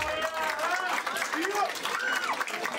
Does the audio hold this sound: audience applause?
yes